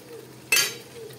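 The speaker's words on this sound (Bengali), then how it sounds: "চলো মাটনটা কষানো হোক" Mutton curry being stirred and sautéed in a pan, a single short scrape and clink of a utensil against the pan over a low, steady background hum.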